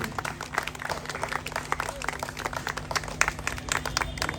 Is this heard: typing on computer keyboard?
no